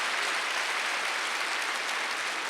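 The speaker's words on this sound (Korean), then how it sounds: "박수 좀 세게 쳐봐요." Church congregation at a Wednesday worship service clapping hard, a dense, loud, unbroken roar of hands filling the space with no voices over it.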